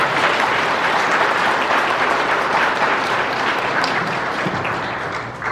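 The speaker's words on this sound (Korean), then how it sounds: "미얀마 청년들과 베트남 청년들의 격려 박수" A church congregation applauds in encouragement of young people from Myanmar and Vietnam, a dense, loud, sustained wash of clapping that holds steady and tapers slightly near the end.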